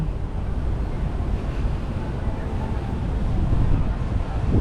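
Wind buffets the microphone in a continuous low rumble at Clarke Quay, Singapore, swelling slightly toward the end, with faint background noise beneath.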